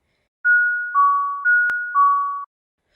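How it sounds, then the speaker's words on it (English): A two-tone doorbell chime rings twice in a row, a high note dropping to a lower one each time, clear and close against silence, with a brief click midway. "I heard the doorbell ring."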